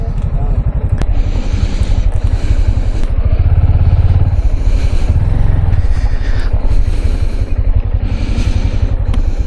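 A motorcycle engine rumbles loudly and steadily throughout, near and continuous, during a bike ride from Mukutmanipur to Kolkata; people talk over the engine noise.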